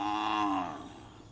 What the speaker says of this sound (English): The cow.